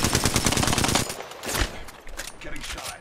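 Rapid automatic gunfire in the Apex Legends video game crackles in a loud, close burst for about a second, followed by scattered fainter shots and impacts.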